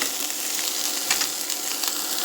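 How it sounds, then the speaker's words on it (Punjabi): Cauliflower for a spicy instant pickle frying in a pan: a steady, loud, bright hiss of oil sizzling throughout, with faint crackles and small pops rising from it and no talking. "ਗੋਭੀ ਨੂੰ ਫਰਾਈ ਕਰਾਂਗੇ ਆਪਾਂ"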